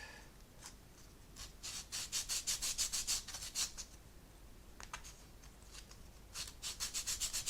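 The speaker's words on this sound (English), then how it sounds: "so I think it may be a good idea to sand this whole surface down" Sandpaper rubs over the plastic surface of an Italeri 1/72 XB-70 Valkyrie model kit in quick, close, quiet back-and-forth strokes. The strokes come in short bursts separated by brief pauses.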